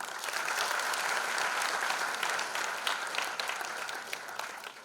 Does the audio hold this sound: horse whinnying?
no